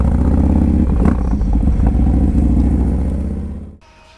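A Harley-Davidson Dyna Low Rider S FXDLS rumbles along on a ride with a loud, deep, steady engine note and some clatter, fading away sharply near the end.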